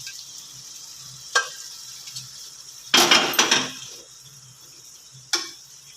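Boiled chickpeas and peas tipped into hot oil and spices in a pan, a brief loud burst of sizzling with clattering stirs, framed by a few sharp utensil knocks over a quiet background.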